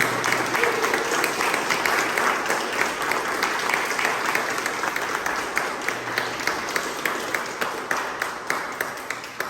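Sustained audience applause after a speech at a club meeting, dense and loud clapping from many people that continues evenly throughout, with a rhythmic pulse emerging toward the end.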